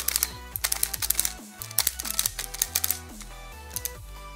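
Rapid plastic clicking and clacking from a Pyraminx puzzle being scrambled by hand, a dense stream of small sharp twists and snaps with no talking.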